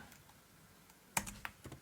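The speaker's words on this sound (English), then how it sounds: "as I'm typing." Quiet keyboard typing at a computer during coding, a few soft scattered keystrokes followed by a cluster of sharper, closer clicks near the end.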